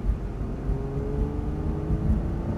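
An Aston Martin DB9 engine pulls hard on a race track, a steady low rumbling drone that holds throughout with no talk over it.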